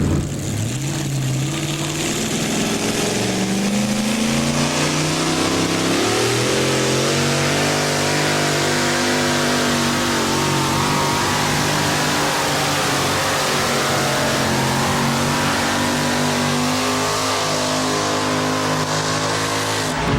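A Chevrolet S10 two-wheel-drive pulling truck at a 1990 NTPA Grand National truck pull in Pocono, Pennsylvania roars loud and close, its engine climbing in pitch through a sustained full-throttle run of about twenty seconds.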